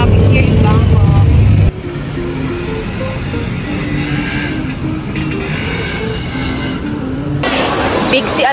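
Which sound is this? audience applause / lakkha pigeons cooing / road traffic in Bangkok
road traffic in Bangkok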